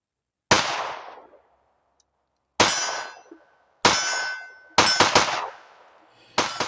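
A Smith & Wesson M&P 2.0 Performance Center Carry Comp pistol fires at an outdoor range. There are three single sharp shots spaced apart, then a quick double, then one more, each cracking loud and ringing out briefly.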